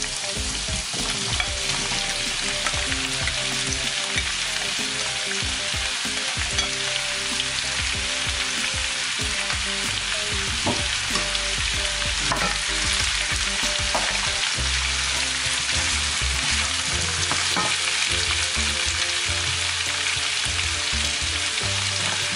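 Rice and vegetables fry loudly in a pan and are stirred throughout, a dense continuous sizzle broken by close scraping and tossing strokes, no voices.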